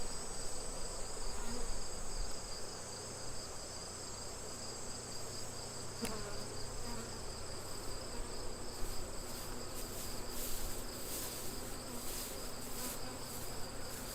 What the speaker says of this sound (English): But as you can see, it's kind of full of bees